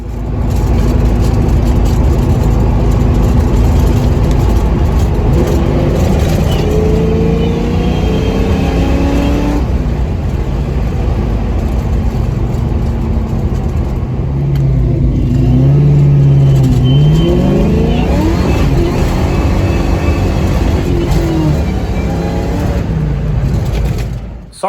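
A Ford Mustang Foxbody engine at a wide open throttle pull, loud and close, with the revs climbing steadily over most of half a minute and a roaring exhaust note that stays sustained throughout.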